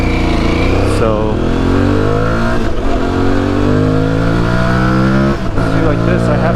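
An Aprilia Tuareg 660 motorcycle accelerates, its engine loud and close with a rising pitch that drops back at a few gear shifts.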